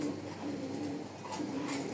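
A male Arabian Kokka pigeon coos repeatedly in low, throaty pulses against a steady background hum, fairly close with no voices.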